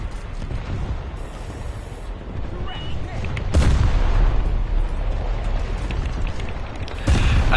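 Gunfire opens up aboard a naval vessel in War Thunder, loud booming bursts at about 3.5 and 7 seconds over a constant rumbling engine and sea bed of noise, with a voice talking faintly underneath.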